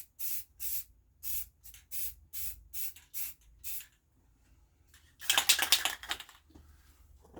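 A spray gun lays a first coat of paint on parts during a tractor loader backhoe rebuild: about a dozen short, sharp hissing bursts in quick rhythm, then after a pause one longer, louder spray hiss, with no voices.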